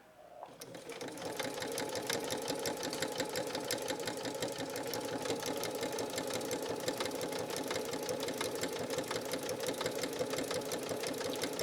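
A Janome 3160 QDC sewing machine starts up and stitches at a steady, fast, even whir, a close, continuous rattling hum holding for more than ten seconds.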